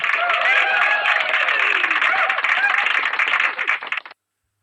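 Loud, dense applause from a live audience at an Indonesian debate on atheism versus spirituality, a steady wash of clapping with cheering voices mixed in that cuts off abruptly after about four seconds.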